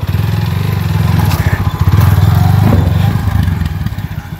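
A motorcycle engine runs loud and close on a festival outing, a steady low chugging idle with some rattling clatter over it.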